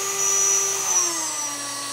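CNC spindle driven by a VFD at 24,000 RPM and 400 Hz, emitting a steady high-pitched whine with a faint sliding tone that drifts slightly downward, loud and close, no talk.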